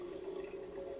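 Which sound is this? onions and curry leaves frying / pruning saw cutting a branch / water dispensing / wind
water dispensing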